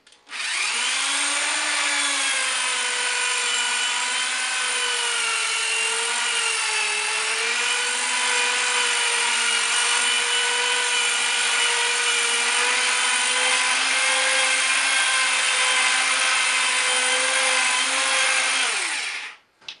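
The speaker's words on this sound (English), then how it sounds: "using our buff pad with a slow to medium speed electric drill" An electric drill with a buffing pad, polishing a guitar's finish, whirs continuously for nearly twenty seconds, a steady high-pitched motor whine with slight speed wavers, then cuts off.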